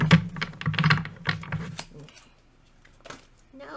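A deck of cards being shuffled, with quick riffling and papery flutters in short bursts up close, followed by a pause and a few softer card sounds.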